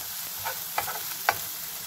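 Meatballs for a kofta hamburger frying in a pan, giving a steady close sizzle with a few soft stirring clicks and scrapes, no voices.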